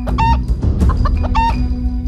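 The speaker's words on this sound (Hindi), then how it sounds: "छोटू उस मुर्गे को पकड़ने की कोशिश करता है" A cartoon rooster clucks in quick, loud bursts over a steady background hum, a few squawking calls close together.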